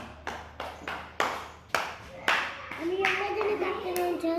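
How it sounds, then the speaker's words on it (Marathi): Several sharp hand claps, spaced about half a second apart and close by, applaud a child's handwriting practice at home, with a voice speaking over the later claps. "टाळ्या वाजून टाका"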